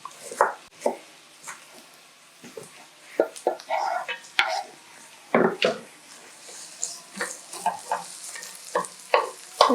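Onions frying in a pan for a Kenyan black beans and matumbo dish, close sizzling with irregular scraping stirs and clinks of a utensil against the pan.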